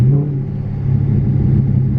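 A 2018 Dodge Charger Daytona 392 V8 in track mode revs hard, its loud, close exhaust a continuous deep rumble with the engine note climbing and sustained throughout.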